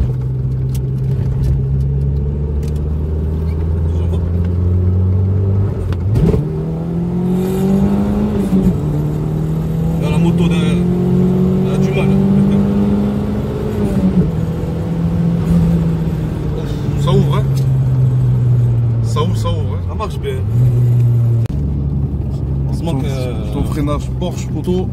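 Turbocharged four-wheel-drive Opel Calibra running on the road, its engine droning steadily with rising and falling revs throughout, while people talk over it inside the car.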